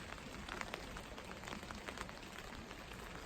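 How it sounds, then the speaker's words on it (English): Steady rain patters down continuously at a wild hammock camp, a dense hiss of drops striking a surface close by, with no voices. "Still raining."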